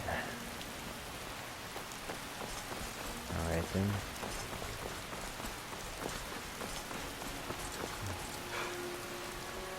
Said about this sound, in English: Dang, it's still raining.